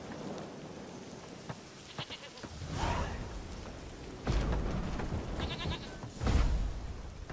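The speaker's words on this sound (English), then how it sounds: "Kid is a baby goat." A goat bleats twice, a few seconds apart, in The Witcher 3: Wild Hunt, over a constant hiss of rain with low rumbling bursts like thunder.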